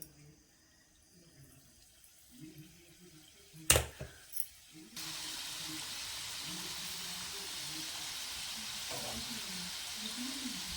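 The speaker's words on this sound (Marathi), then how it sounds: "वड्या आहेत ना आपण अशा सोडून घेऊया तेलामध्ये" Bakarwadi pieces dropped into hot oil, kept off a fast flame, set up a steady broadband frying hiss that starts suddenly partway through and holds loud to the end, after a few clinks and a quieter stretch with faint background voices.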